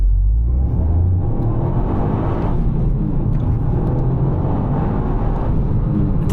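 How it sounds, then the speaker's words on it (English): A Toyota GR Yaris three-cylinder engine of about 260 horsepower launches and accelerates hard, its loud, close, throaty rumble building steadily throughout with no talking. "I love the 3-cylinder noise too."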